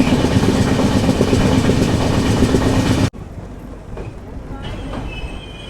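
An express train pulls away from Hazur Sahib Nanded railway station, heard from inside the coach as a loud rumbling roll with wheel clatter that abruptly drops to a quieter interior hum with faint squeals.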